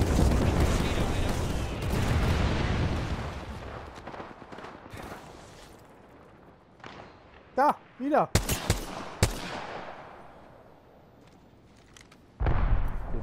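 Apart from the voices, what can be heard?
gunfire in a video game, Apex Legends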